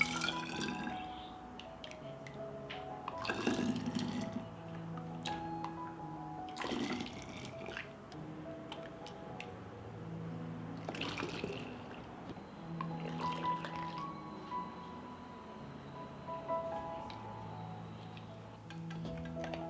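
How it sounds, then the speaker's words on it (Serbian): Homemade sugar-free strawberry juice poured into glass bottles, a trickling, gurgling flow with drips and pitch rising as each bottle fills, plus occasional clinks of glass, fairly quiet and without talk. "I sok sipam u flaše."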